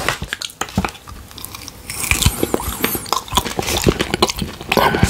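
Teriyaki turkey jerky is bitten and chewed up close, with dense, irregular wet chewing and tearing, then louder crunchy bites after about two seconds.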